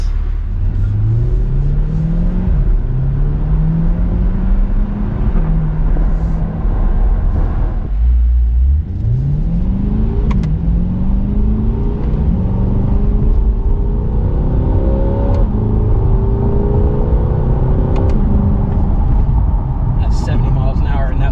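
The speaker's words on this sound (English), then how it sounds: "That's 70 miles an hour, and that's a quarter throttle." A twin-turbo 2020 Mustang accelerates at quarter throttle up to highway speed, its engine note rising through several smooth gear shifts under steady road rumble. People talk inside the cabin throughout.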